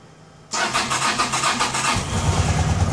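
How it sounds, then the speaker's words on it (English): A 1989 Honda Pacific Coast PC800 motorcycle with fuel injection cranks and fires up abruptly after a quiet half second, then settles into a steady, close, loud mid-pitched idle with a rougher low rumble near the end. "Let's see if I can get the bike to start up today."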